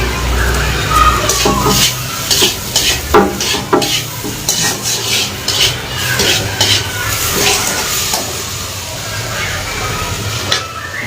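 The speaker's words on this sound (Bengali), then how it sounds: "রান্না করছি করলার ভাজা আর হচ্ছে মাছের ঝাল।" Bitter gourd slices are frying in a pan and being stirred. A loud rhythmic series of spatula scrapes and clatters runs over a steady sizzle, close and vigorous, with a voice briefly present in the background.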